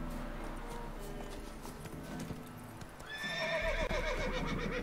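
Horse in the video game The Witcher 3: Hearts of Stone, hooves clopping steadily under quiet ambience, then a loud close neigh and whinny rising near the end.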